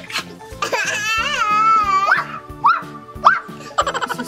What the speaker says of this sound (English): It's a small dog.